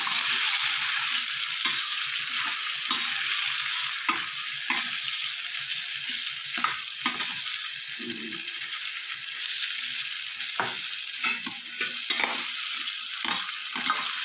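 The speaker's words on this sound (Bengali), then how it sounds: "এবার আমি এটা ভালো করে ভেজে নেবো।" Spices for kadai paneer stir-fry in a pan, giving a continuous loud sizzle broken by frequent scraping stirs, close up throughout.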